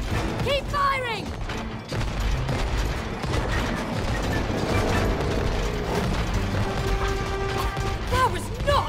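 Rapid gunfire from the co-op video game It Takes Two, played on PS4 during a whirlpool scene in Rosie's Room, sounds as a dense, busy burst under game music and effects, with character voices calling out between the shots.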